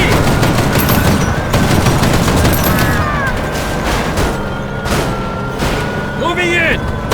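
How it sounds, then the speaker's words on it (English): Heavy continuous gunfire aimed at an APC in the video game Mercenaries 2: World in Flames, dense loud volleys with booming impacts and mechanical clatter, with a voice shouting over the noise. "Firing on the APC!"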